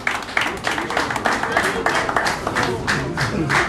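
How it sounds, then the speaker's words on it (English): An audience claps steadily, scattered hand claps blending into a sustained round of applause, with some voices mixed in. "can we give a round of applause?"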